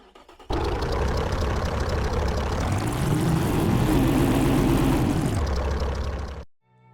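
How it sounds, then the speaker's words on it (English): A big V16 engine in the Automation game roars through a dyno pull test, starting abruptly and holding a loud, steady droning rev for about six seconds before cutting off sharply. "Now let's give you a listen to this big-ass V16 that can't haul anything"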